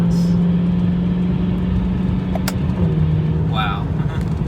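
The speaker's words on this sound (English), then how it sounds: "Driving the M3, warming it up right now." A BMW E92 M3 engine drones steadily while driving during warm-up, a low constant hum with a slight pitch drop near the end, and a voice speaks over it.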